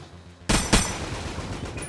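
Gunfire and delayed explosions in the bullet-hell video game Enter the Gungeon: a sudden loud blast, then a second burst, followed by a dense, crackling wash of shots and detonations.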